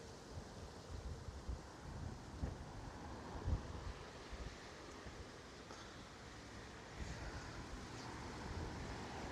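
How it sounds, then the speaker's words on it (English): Wind buffets the microphone in steady rumbling gusts at an airport terminal in Ponta Delgada, São Miguel, Azores, loud and close, with a broad rushing roar and no clear voices. "It's a windy day."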